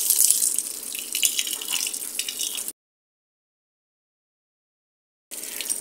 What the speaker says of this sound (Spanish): la máquina automáticamente detecta que le está haciendo falta agua y tiene que ponerle más.